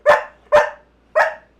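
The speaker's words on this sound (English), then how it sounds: "Why are you barking, Tallulah?" Dog barking three times in quick succession indoors at night, loud and close with short gaps between sharp barks.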